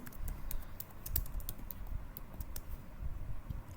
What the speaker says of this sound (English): let me type another prompt